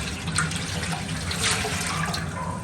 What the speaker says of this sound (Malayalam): അതിലേക്ക് നമ്മൾ എടുത്തു വെച്ചിരിക്കുന്ന 3-ാം പാൽ ചേർത്ത് കൊടുക്കുകയാണ്.